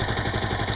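A Yamaha YZF R125 motorcycle engine idles with a steady, even low-pitched pulsing, close and loud, with no voices over it.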